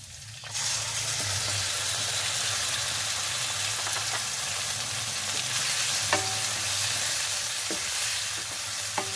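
Pork meat sautéing in a pan for a Filipino-style pork with mushroom and vegetables dish, a steady close sizzle and fry with occasional clinks and scrapes of stirring, no voices.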